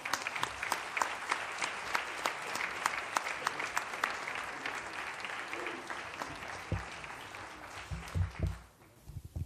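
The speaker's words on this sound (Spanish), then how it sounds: "Fuerte aplauso para ella." An audience at a civic awards and medals ceremony in Motril gives the city's mayor a long round of applause, steady dense clapping that dies away near the end as a few sounds linger.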